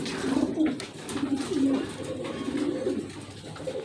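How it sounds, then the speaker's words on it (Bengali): A pair of large blue Lahori pigeons at a pigeon market give repeated low, throaty coos in a rolling rhythm, close and fairly loud, with faint market background and a hint of distant voices. "দেখতে পাচ্ছেন স্ক্রিনে একজোড়া বিগ সাইজের ব্লু বাললেস লাহোরি কবিতর"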